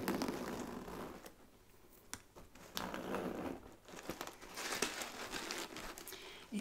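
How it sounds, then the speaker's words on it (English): Paper stuffing crinkles and rustles inside a new handbag in a quiet, close setting, with irregular crisp bursts of crumpling and shifting spread through the clip and no voice. "It's stuffed with some paper as well, just so it holds its shape nicely"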